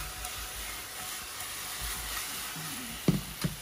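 Caramelizing cauliflower sizzles softly in a wok, a continuous low hiss with faint stirring, then two quick knocks as the pan is tossed near the end.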